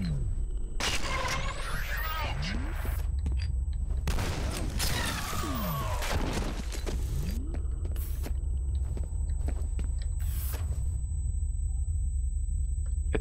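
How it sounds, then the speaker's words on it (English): Heavy booming cannon blasts with deep rumble and whooshing projectiles, fired in bursts amid a constant low drone, in the video game F.E.A.R. "Okay, it's a cannon."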